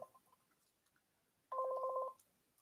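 A telephone tone sounds once for about half a second, a clear steady electronic beep that stands alone against near silence.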